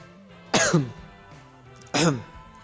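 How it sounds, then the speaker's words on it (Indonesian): A lecturer with a cough clears his throat twice, about a second and a half apart, each rasping burst loud and close against a quiet room. "ini nanti kalau saya agak banyak berdaham karena lagi batuk"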